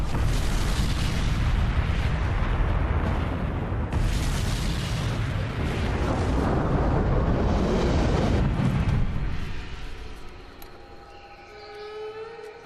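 Napalm mixed with phosphorus bursts in a massive fiery blast, a loud sustained roaring rumble that fills most of the stretch before fading into a quieter tail with a thin tone rising at the end.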